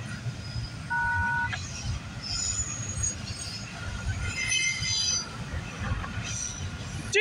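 A freight train with a distributed power unit locomotive rolls past nearby, a continuous rumble with wheel squeal and rail clatter throughout and a brief horn-like tone early on.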